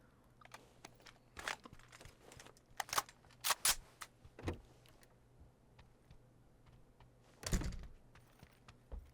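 Doors being shut inside a video-game building, a run of scattered thuds and clunks with one heavier slam near the end, over a low, steady in-game hum.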